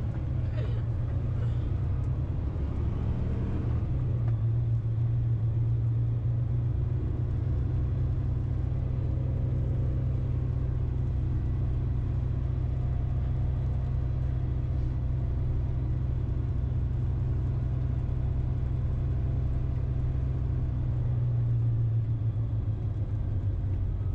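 Dump truck engine rumbling steadily in first gear while plowing snow, a deep continuous low drone heard from inside the cab, with a faint voice under it.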